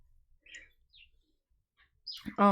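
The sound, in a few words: birds chirping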